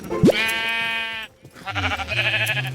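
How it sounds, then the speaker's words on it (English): A Minecraft sheep being sheared gives one drawn-out, wavering bleat close up, followed by a brief gap and a second, shorter bleat. "On days 38 through 40, I started by shearing the sheep once again."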